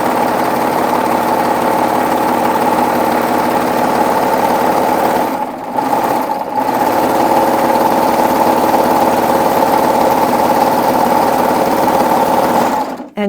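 A serger stitches wired ribbon in a continuous fast whir, loud and close, pausing twice briefly before resuming and then stopping at the end.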